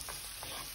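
Chopped precooked ham tumbles into a hot pan for fried rice, bringing a steady close sizzle with two soft rustling bursts as the pieces land and shift, all within under a second and with no voices.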